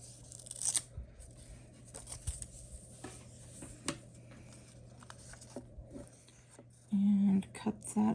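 Scissors snip through paper or card for an ATC card in soft, scattered cuts at close range, under quiet whispered talk, with a louder rustle toward the end.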